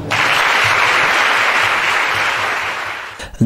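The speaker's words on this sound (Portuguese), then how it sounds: "Uma salva de palmas." Audience applause at a student association event held by the municipality in Viana, steady and dense for about three seconds before tapering off sharply at the end.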